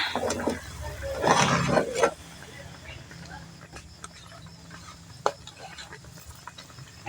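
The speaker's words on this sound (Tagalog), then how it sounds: "Ito ay ating ibuhos dito sa ating pinakuluang munggo." A sautéed mixture is poured into a pot of boiled mung beans for a pork hock stew, making a brief splashing pour of about two seconds, followed by faint clinks and scraping while a person talks.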